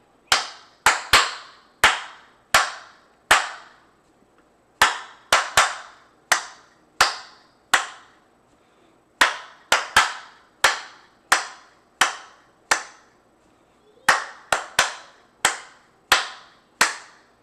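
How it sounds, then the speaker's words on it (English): Hands clap out the rhythm of Happy Birthday alone, sharp close claps in uneven phrase groups with short pauses between lines, no singing or instruments. "I'm just going to clap the song. No notes up and down, no singing, just clapping the rhythm of the song"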